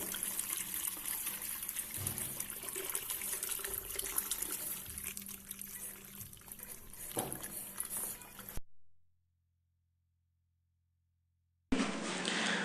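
Water rushes steadily into a tank through an automatic proportional valve in a capacitive-sensor level-control rig, a continuous close flow that cuts off abruptly into silence and then briefly resumes.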